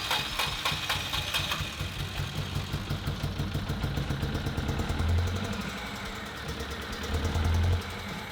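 A Honda CRX engine runs roughly near at hand, a loud uneven chugging idle with irregular pulses and knocking beats, as if firing on only some cylinders, with no talk over it.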